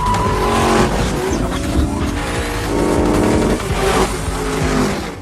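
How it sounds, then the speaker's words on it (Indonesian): Street-racing cars from a Fast and Furious film roar loudly with revving engines and squealing, skidding tires, a dense continuous blast of motor noise throughout the few seconds. "Dom menyuruh Letty balapan dengan dalih mengembalikan ingatannya."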